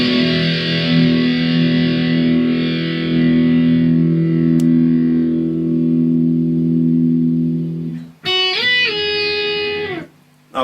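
A heavily distorted electric guitar sustains a thick, droning chord from a song for several seconds, then slides through a few bending notes near the end.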